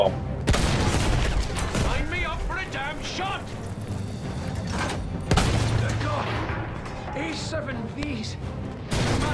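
Battlefield 1 gunfire: bursts of shots and booms crackle loudly through the clip, with a heavier blast near the middle, while a voice talks over the battle.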